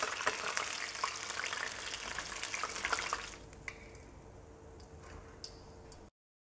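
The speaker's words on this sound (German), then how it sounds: "dann geben wir nach und nach den Tofu ins heiße Fett" Tofu nuggets sizzle in hot fat, a dense crackling hiss that stays steady for about three seconds, then drops to a quieter fizz with scattered pops before cutting off.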